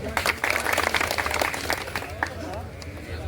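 A crowd at an Uttar Pradesh animal welfare association meeting claps for a district president from Lucknow, giving continuous close applause with cheering and chatter blended in, tapering slightly toward the end.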